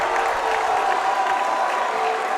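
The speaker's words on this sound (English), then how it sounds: "the crowd is livid" Sacred Heart home crowd at a high school boys basketball game erupts in loud, sustained outraged yelling and booing after a foul goes uncalled, a dense roar filling the whole gym without pause.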